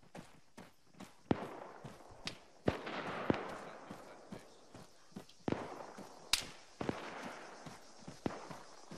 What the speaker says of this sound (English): It's marksman fire.